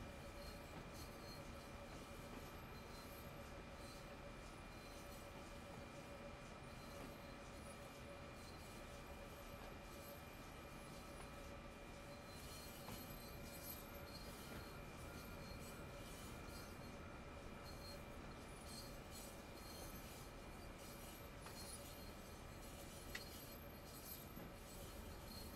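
Slow-running train in the Train Sim World 2 simulator on the Clinchfield route, a steady continuous rumble with sustained tonal hums from the locomotive and faint squeals, constant and even throughout with no talk.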